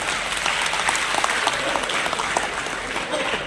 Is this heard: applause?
yes